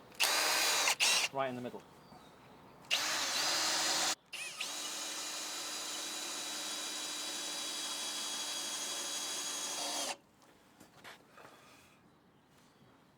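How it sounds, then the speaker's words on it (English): Power drill boring through timber on a trestle timber frame for a log building, loud motor whine in short bursts and then one long sustained run before stopping, with someone speaking briefly near the start. "I'm going to drill it"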